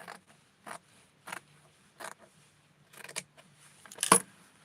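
Scissors cut out a doll-clothing pattern for a 6.5-inch Tutti doll, producing a series of short, crisp snips. The snips are spaced at irregular intervals in a quiet room, ending with a louder, sharper cut.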